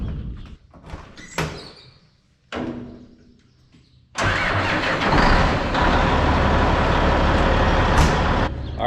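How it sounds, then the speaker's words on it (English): Several door thunks and clatters are followed by a farm truck's engine firing up on a North Dakota farm and settling into a loud, steady idle as it warms up. "truck is warming up"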